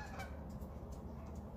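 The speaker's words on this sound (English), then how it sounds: "that's like a little goose" A goose honks faintly a few times against a quiet background, with no talking.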